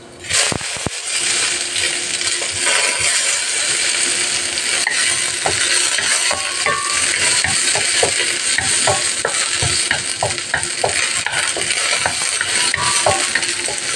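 Ginger and onion frying loudly in a pan, a constant bright sizzle with quick rattling spatula scrapes and clicks throughout, close up and without speech.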